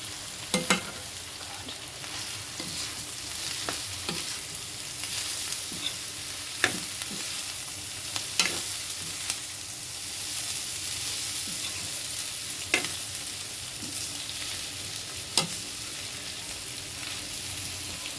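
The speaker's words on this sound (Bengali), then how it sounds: "তো এখন দিয়ে দিচ্ছি একটু ধনিয়া পাতা, সাথে দিয়ে দিচ্ছি আগে থেকে মিক্স করে রাখা নুডলস।" Noodles and coriander leaves stir-frying in a pan: a steady close sizzle with scattered clicks and scrapes of stirring, no voices.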